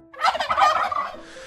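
A turkey gobbles in one loud, rapid, rattling burst lasting about a second, heard close and alone before it trails off.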